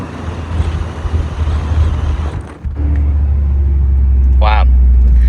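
A BMW M340i fitted with drag radials rolls back along the strip after a launch, its engine a steady low drone that dips briefly then settles into a constant rumble, with a short higher tonal chirp near the end.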